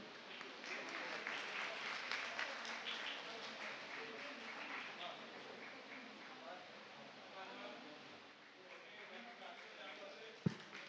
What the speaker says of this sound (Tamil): உங்களது பலத்த கரகோஷத்துடன்